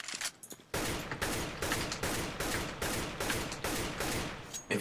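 Rifle fire in Counter-Strike: Global Offensive, a steady sequence of roughly eight tapped shots at an even rhythm, each followed by a short echoing tail, with no talking.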